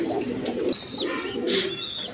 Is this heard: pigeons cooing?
yes